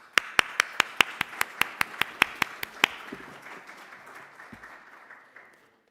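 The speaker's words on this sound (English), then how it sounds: "Please give him a round of applause." About thirteen sharp, evenly spaced claps ring out close and loud at a festival conversation event, then stop and give way to a fading roomy murmur.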